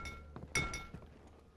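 A glass bottle in the video game Amnesia: The Dark Descent struck without breaking, giving a few quiet ringing clinks and dull knocks within about a second, close and faint.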